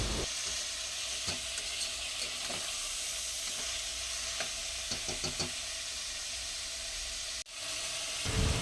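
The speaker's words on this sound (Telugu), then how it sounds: "ఈ వెజిటేబుల్స్ యాడ్ చేసిన తర్వాత ఒకసారి బాగా కలుపుకోవాలి" Mixed vegetables and sweet corn sizzle steadily in a hot pan while being stirred, with scattered light scrapes and ticks over a constant frying hiss and a brief drop near the end.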